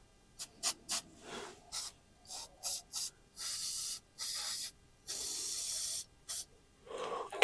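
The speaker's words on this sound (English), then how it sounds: "I'm just spraying these with any kind of lubricant" Short hissing bursts of lubricant spray onto mobile home axle bolts, a series of quick puffs followed by longer sustained sprays, close and fairly quiet with no talking.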